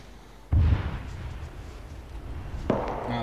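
A single heavy sniper shot rings out in the online tactical shooter HMG Черные береты, a sharp, booming report that decays over a couple of seconds. A second, lighter crack follows near the end.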